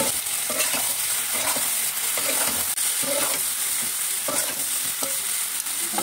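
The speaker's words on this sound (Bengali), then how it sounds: "এই যে বন্ধুরা দেখো, সবজি ভাজা হয়ে আসছে।" Mixed vegetables fry and sizzle in a pan with chopped ginger, cumin and coriander powder for a vegetable khichuri, with steady crackling and repeated stirring scrapes throughout, no voices.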